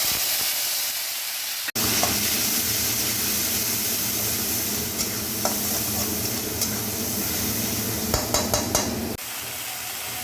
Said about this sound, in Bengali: এইবারে আমি দিয়ে দেব বাটা মশলা